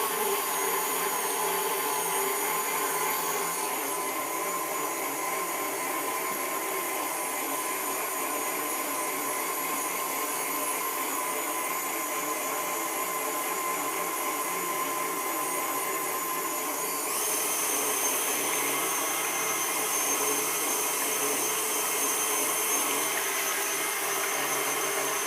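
A blender mixes tahini salad dressing, a steady loud motor whine running throughout that shifts up in pitch and intensity partway through as the power is raised.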